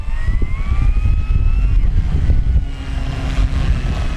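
A steady, buzzing electric drone with a rising whine comes from an FMS Pitts V2 1400mm RC biplane as it taxis across long grass on a windy day.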